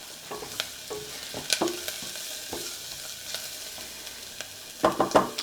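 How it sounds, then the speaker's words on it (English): Onions sauté in a hot pan with a low, steady sizzle, sharp taps and scrapes of a spatula scattered throughout, clustering near the end. "So I'll let these onions saute for just a few minutes"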